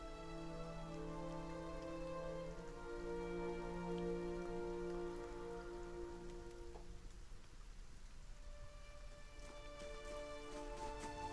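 Steady rain falls in the video game Pillars of Eternity, a faint, continuous hiss of drops on surfaces that stays even throughout, with a quiet game music tone in the background and no talk.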